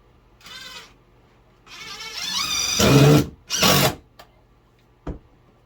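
A power drill drives screws back into a 2x4 while a door is fitted into a suburban home. Several short, close whirring bursts stop and start, ending with a brief final zip, with no talking.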